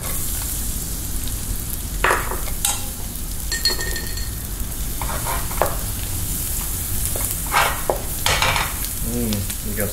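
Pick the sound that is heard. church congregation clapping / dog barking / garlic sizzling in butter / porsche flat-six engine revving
garlic sizzling in butter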